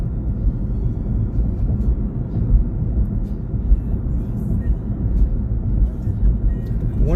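A car driving north through Gilbert, Arizona toward Mesa gives a steady low road rumble and engine drone from inside the cabin, continuous and fairly loud for the whole stretch.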